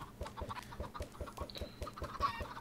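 Many chickens cluck in a blocky Minecraft world, a steady rhythmic series of short, fairly close clucks about four per second, with a brief higher note and some extra clatter near the end.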